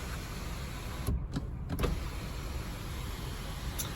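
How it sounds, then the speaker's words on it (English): A steady electric motor whir runs throughout with a few sharp clicks as the panoramic sunroof of a MINI Cooper 1.5 hatchback slides open nearby. "you've also got these twin panoramic roofs as well. And that's operated from this little switch here"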